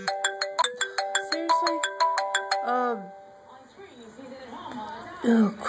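A mobile phone ringtone plays a quick, loud, repeating melodic pattern for about three seconds and then stops, after which someone speaks.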